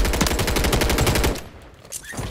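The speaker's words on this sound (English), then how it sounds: "I'm gonna fire and I'm gonna blow it" Rapid automatic gunfire from a WSP-9 submachine gun in the video game Warzone 3, a loud, dense burst of shots lasting over a second, then a brief quieter pause and a few fainter game sounds.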